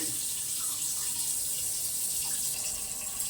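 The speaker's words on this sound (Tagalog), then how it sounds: "Lagyan natin mga idol ng tubig." Steady rushing water runs from a tap into a pot, a continuous close splashing stream with no pauses.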